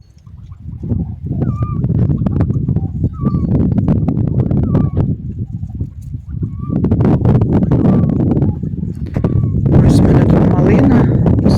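Peafowl give short, repeated nasal honking calls at intervals over a steady background of nearby rustling and movement, while a person talks.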